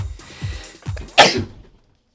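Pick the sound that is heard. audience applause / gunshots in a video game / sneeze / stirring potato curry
sneeze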